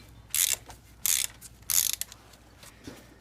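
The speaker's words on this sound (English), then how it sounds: "We'll turn this counterclockwise and that'll allow it to go down." Three short, clicking ratchet bursts, followed by a faint softer click, come from a tool turning the timing belt adjusting bolt counterclockwise on a Toyota RAV4 engine. The sounds are close and are separated by quiet pauses.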